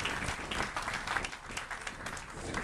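A crowd on a cruise ship applauds a glassblowing demonstration, with fairly faint, steady clapping from many people in a reverberant space and a hiss of background noise.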